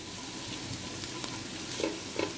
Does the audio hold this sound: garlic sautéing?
yes